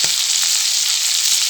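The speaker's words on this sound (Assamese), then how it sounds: "জাষ্ট অকণমান তেল দিছোঁ আৰু অকণমান নিমখ দি ভাজি আছোঁ" Mutton pieces sizzle in a little oil with salt in a pan, a loud, continuous close-up frying hiss with faint crackles and no voices.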